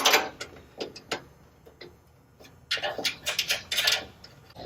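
Ring screws being driven by hand into a range cart, giving a series of short clicking and ratcheting bursts, close and fairly quiet, with pauses between turns and a denser run of clicks near the end.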